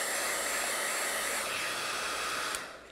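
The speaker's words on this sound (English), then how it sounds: "And I'm going to take my hair dryer." Hair dryer blowing steadily on a beeswax sheet for a couple of seconds, a loud continuous rushing whoosh that cuts off and fades at the end.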